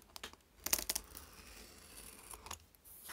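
Scissors trim thin teabag paper to size, making a close cluster of crisp snips and paper crinkles early on, then softer scattered cuts and rustling.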